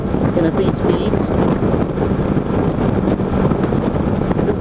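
Steady, loud wind roar buffets the microphone while riding a Kawasaki Versys 650 LT motorcycle at speed on a busy interstate, a continuous broadband rush with engine drone beneath and no pauses.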